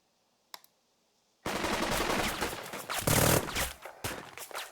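Gunfire from a squad attack in the video game Burden of Command: after a lone faint click and near silence, a dense, loud burst of rapid automatic shots and crackling rifle fire erupts and continues.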